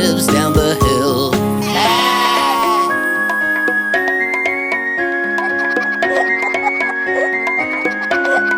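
A cartoon sheep bleats loudly with a wavering cry in a children's nursery rhyme, then a bright melody with whistle-like notes plays over it.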